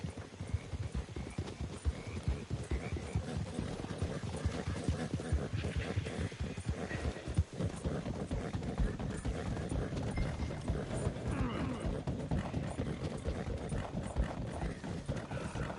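Horse hooves clip-clop steadily and continuously in a video game, a brisk rhythmic gallop with occasional whinnies mixed into the busy scene.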